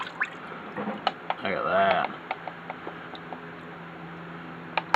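Water dripping and trickling off a spray-paint hydro-dipped piece as it is lifted from a bucket, a short splashy pour followed by scattered close drips, with someone speaking briefly.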